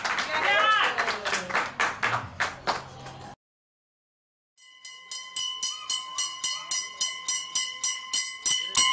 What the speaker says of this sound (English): Claps, everybody.